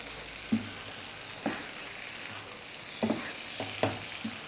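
Daal mash frying in a pan with ground garam masala as it is mixed in: a steady soft sizzle with several distinct spoon scrapes and taps spaced irregularly, close and fairly quiet.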